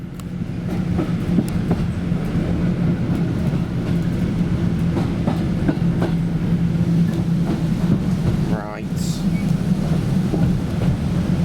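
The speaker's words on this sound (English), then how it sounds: "So I heard the rails vibrating, so I knew it was coming, the 170." A Class 170 diesel train approaches on the Spa Valley Railway, with a loud, steady engine drone and rhythmic clatter from the vibrating rails throughout. A brief dip and a rising squeal come near the end.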